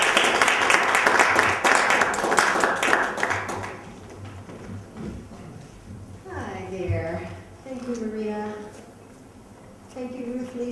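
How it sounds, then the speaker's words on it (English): Audience applause at a poetry reading, a dense wash of clapping filling roughly the first three and a half seconds before it fades and a voice begins speaking over the quiet room. "Let's give a round of applause for Maureen."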